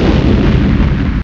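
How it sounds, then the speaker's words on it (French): Heavy explosions in a trailer for Vinland Saga: a dense, loud, continuous rumbling blast lasting just over a second, then cutting off abruptly. "Et là tu mets plein d'explosions."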